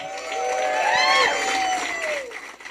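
Audience applause and cheering at a free podcast festival launch at the Maison de la Culture Maisonneuve in Montréal, a loud, sustained crowd wave with whoops and whistles that rises, peaks, then tapers off.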